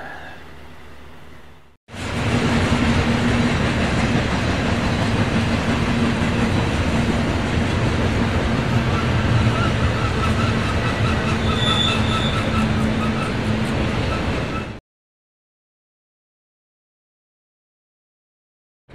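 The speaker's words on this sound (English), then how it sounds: "There's a train going by as I speak." Train rolling past the Station Inn at Cresson, Pennsylvania, a loud, sustained rumble of rail cars with wheel squeal that cuts in abruptly, holds for about thirteen seconds, then stops dead.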